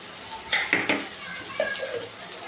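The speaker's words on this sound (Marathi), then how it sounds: "डाळ पण साईड बाय साईड मी फोडणीला घालून" Cooked lentils going into a hot oil tempering in a home pressure-cooker kitchen: a soft background sizzle with a few utensil clinks and scrapes as they are stirred in, close and moderately quiet.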